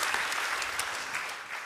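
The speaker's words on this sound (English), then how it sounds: "give him a round of applause" Audience at a design conference talk in Düsseldorf applauds, dense steady clapping from many hands that is loud and fills the whole clip with no speech over it.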